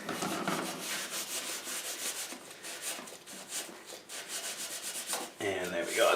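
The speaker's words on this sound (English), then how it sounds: "I'll switch to the green Scotch-Brite here" Green Scotch-Brite pad scrubbing grime off the metal surface of a Bridgeport milling machine, a rapid, continuous rhythmic rubbing with repeated back-and-forth strokes, close and moderately quiet.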